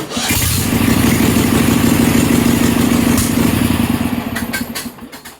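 A Vanguard V-twin engine swapped into a Sears 18/6 garden tractor, fitted with a different-brand carburetor, runs at a loud, steady, close throb and then fades toward the end.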